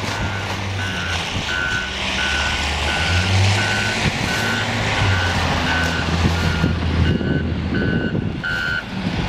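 A snow plow truck in Montreal reverses with a steady, evenly spaced backup beep over a loud, rumbling diesel engine, the beeping continuing throughout at close range.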